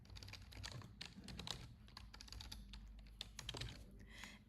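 Rapid clicking of a computer keyboard as someone types into a search bar, a steady close patter of keystrokes with no talking over it.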